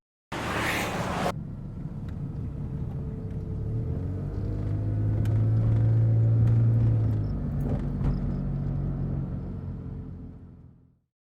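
A van drives past on a rainy city street, its engine rumble swelling to a loud peak mid-pass and fading away, with a brief burst of noise at the start and faint background clatter.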